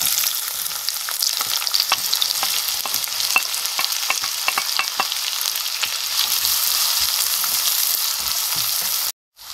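Small onions with green chilies and salt sauté in oil for a Tamil kara kuzhambu, producing a bright, steady crackling sizzle punctuated by frequent sharp spatula taps and scrapes. The sound cuts out abruptly near the end.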